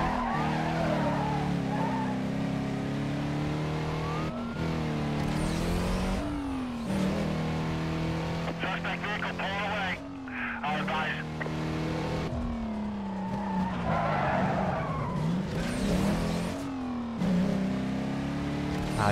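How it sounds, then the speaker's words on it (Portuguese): A car skidding and squealing its tires in the PS2 racing game Need for Speed: Carbon while evading police, with an engine roaring and revving throughout, loud and continuous, shifting pitch through repeated slides and gear changes. "O carro patina pra caramba,"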